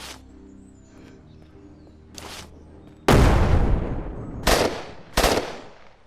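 MP5 gunfire in the zombie video game Surroundead: after a quiet start with a faint earlier shot, loud rapid automatic bursts ring out, one long volley followed by two shorter bursts with fading echoes.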